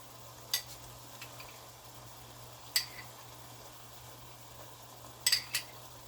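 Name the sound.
shrimp fajitas simmering and being stirred in pan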